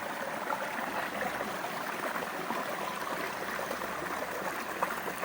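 A small stream flows steadily, a continuous close hiss and trickle of running water with no pauses and no voices.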